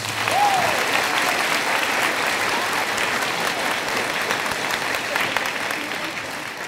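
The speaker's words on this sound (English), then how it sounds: "Let's give them a round of applause." A middle school assembly audience at a Diversity Day program claps in a steady, continuous round of applause, with a brief vocal whoop near the start, the clapping holding strong before slowly easing off.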